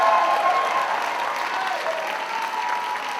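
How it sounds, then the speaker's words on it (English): Convention hall audience at an Oxford House general session keeps up steady applause, a continuous dense clapping texture with a faint background tone, even in level throughout. "Y'all can clap louder than that."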